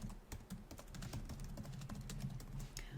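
Fingers type an email on a computer keyboard, producing rapid close key clicks and taps in an uneven rhythm that continues throughout without any speech.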